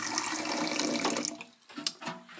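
Water poured for Turkish coffee into a small cup or pot, a steady close splashing stream that tapers off into a few trickles and drips, with no talking.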